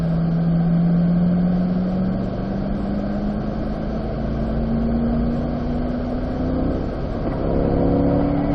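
A C8 Corvette pulls in fourth gear on a sunny race track, its engine note rising slowly and steadily under load as it accelerates, heard from inside the car with wind and road roar and no talking.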